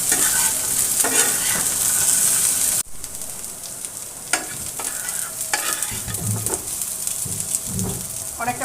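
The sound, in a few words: frying and stirring drumsticks (sajna data) in pan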